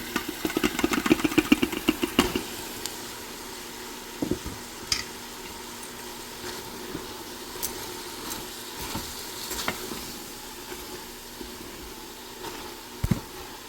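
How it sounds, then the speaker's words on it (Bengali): Minced meat is poured into a hot frying pan and sizzles as a steady broadband hiss. Clattering stirring knocks are busy over the first two seconds, then sparse utensil taps sound through the frying, with no talk. "এখন আমি কিমাগুলো ঢেলে দিব।"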